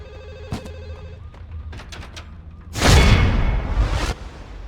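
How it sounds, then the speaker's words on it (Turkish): A telephone rings in the Max Payne 2 video game, with a short burst of trilling bell rings near the start, followed by a few thumps and then a loud rushing whoosh that swells and cuts off. "Telefon. Oradan geliyor."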